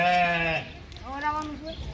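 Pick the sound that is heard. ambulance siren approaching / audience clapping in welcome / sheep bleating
sheep bleating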